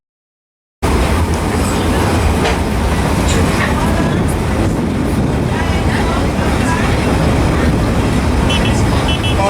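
A narrow gauge tourist train on St Kitts rolls steadily along its rails, a loud continuous rumble with clickety-clack wheel beats, in the open with faint voices mixed in.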